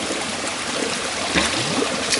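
Water pours steadily out of an overflow on a gravity-fed water system, a continuous close splashing trickle with no voices.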